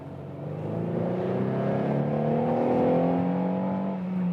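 Renault Megane GT with dual clutch transmission in normal mode accelerating from 40 to 80, its engine note rising steadily in pitch from inside the cabin, loud and continuous with no talk.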